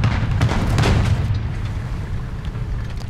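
A Tetrarch I light tank's cannon fires in War Thunder ground realistic battle, a single loud low boom near the start that rolls off into a rumbling engine drone.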